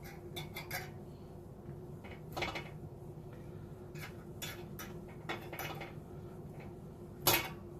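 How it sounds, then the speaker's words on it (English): A spatula flips burger patties in a pan beside bacon, with several quiet, scattered scrapes and clatters and one sharper knock near the end over a low background hum. "And flip the patties."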